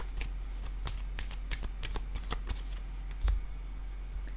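Tarot cards shuffled and handled during a card reading, a quick series of crisp flicks and riffles close by, fairly quiet against a steady low hum.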